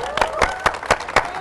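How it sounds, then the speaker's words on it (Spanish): Rhythmic, evenly spaced claps from a crowd at a tech conference talk on ACTA, about six sharp beats in quick succession with some voices underneath. "¡Aplauso!"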